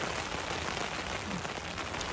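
Steady rain falls while people sit under an umbrella at a farm, producing a dense, continuous hiss and patter of drops close by with no talking.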